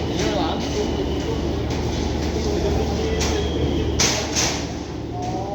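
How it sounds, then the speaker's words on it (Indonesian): A KRL commuter train at Jakarta Kota station rumbles steadily at the platform, with hiss, clunks and crowd noise layered over the low drone. "Ini kereta yang tadi kita naik."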